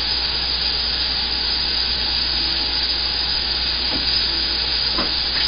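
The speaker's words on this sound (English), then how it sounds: "Now let that saute for a minute" Chorizo and mushroom filling with garlic and onion sautés in a pan, a steady close sizzle with faint stirring scrapes near the end, no voices.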